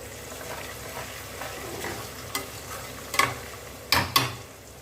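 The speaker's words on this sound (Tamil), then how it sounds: "கடலப்பருப்பும் சேர்ந்து வதங்கி வரும்" Chana dal and green chilies sauté in a pan while a spoon scrapes and stirs, a soft low sizzle broken by a few sharp clinks and taps near the end, close and without talk.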